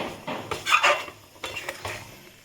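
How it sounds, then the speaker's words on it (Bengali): A spoon scrapes and knocks against a pan while raw mango pickle is stirred gently in thick jaggery syrup, a few close, uneven clinks and scrapes separated by short pauses. "খুব সাবধানে নাড়াতে হবে যাতে আমগুলো গোটা গোটাই থাকে।"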